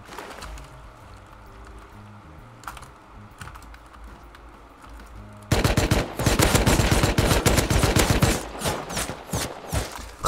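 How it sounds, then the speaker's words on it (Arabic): A Tommy gun fires in the video game Rust, first faint distant pops and then a loud close burst of rapid automatic fire from about the midpoint onward, clattering densely for several seconds before tapering. "خمسة طلقات تومي ما مات"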